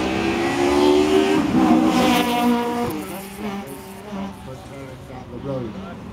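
A Subaru rally car racing through the Circuit of Ireland Rally 2012 street stage in Lisburn, its engine revving hard and shifting pitch as it passes, loud and near, while a commentator talks over it.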